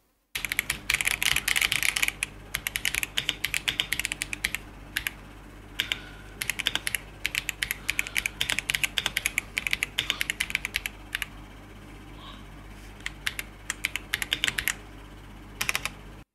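Typing on an Akko 5075B Plus gaming keyboard, a quiet board with soft keystrokes: bursts of rapid, close clicking and clacking with brief pauses between runs, no voices.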